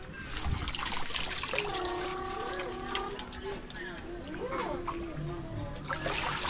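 Water splashes and trickles steadily as concrete is mixed with sand on a building site for a steel-reinforced pour, with voices, including a child's, talking over it throughout.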